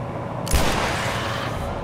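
A single sharp gunshot in The Last of Us, a sudden loud crack over a low steady game background, followed by a brief fading tail.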